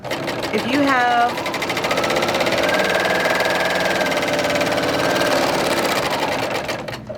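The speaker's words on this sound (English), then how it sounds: "Since you're using your serger," A serger runs continuously, stitching fabric for crazy quilt blocks with a loud, close, steady mechanical whir and rapid needle chatter. A brief rising squeak comes near the start.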